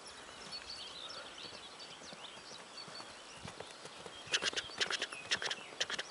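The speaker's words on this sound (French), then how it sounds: "J'aime bien le bruit de tes sabots, Bebop." Horse hooves clip-clopping at a walk, a steady faint rhythm of soft knocks that grows louder and sharper toward the end, with birds chirping lightly in the background.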